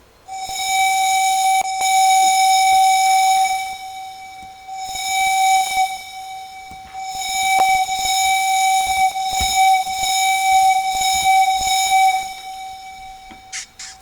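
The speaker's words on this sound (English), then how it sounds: "That's a really interesting air whistle" Air whistle on a Southern 630 pack car in the Trainz railway simulator, sounding three long steady blasts with short gaps between them, loud and clear, with a brief faint tone near the end.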